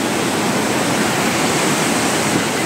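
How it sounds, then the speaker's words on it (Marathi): Fast-flowing river water rushes loudly and continuously along the Kedarnath trek in the Himalayas, a dense, steady roar with no speech. "पाण्याचा प्रवाहाचा जर तुम्हाला आवाज येत असेल तर तो ऐका की किती सुंदर आहे"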